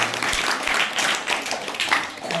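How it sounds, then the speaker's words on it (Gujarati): A group of students claps for a correct answer during a Math's Day classroom quiz, producing a steady, fairly loud burst of mixed applause that lasts the whole moment with no voices over it. "જોરદાર તાળીઓ થઈ જાય."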